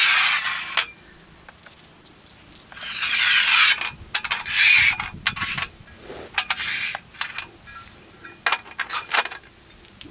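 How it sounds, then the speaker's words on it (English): Bolts sliding and scraping into the groove of a solar array rail in a DIY field installation. Irregular bursts of close metallic rubbing and clicking over about ten seconds, with no talking. "So the bolts just slide into the groove."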